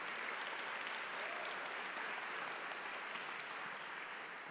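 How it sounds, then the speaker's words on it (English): Steady, sustained applause from a large audience at a lecture event, dense and even throughout with no speech over it. "Give her a round of applause."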